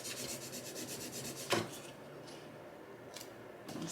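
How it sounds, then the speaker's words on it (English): A rub-on transfer being rubbed hard onto a Dollar Tree craft piece, a steady scraping rasp that turns into a sharp scratch, then a few brief strokes against near silence. "you gotta rub pretty hard to get that off of there"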